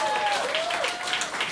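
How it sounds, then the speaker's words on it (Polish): Brief burst of audience applause at a stand-up comedy show, dense clapping from a crowd with a voice carrying over it. "Dajcie jeszcze raz brawa Metatronowi."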